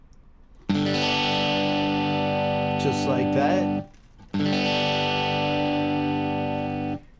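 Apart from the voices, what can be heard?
Telecaster guitar strummed in five-string open G tuning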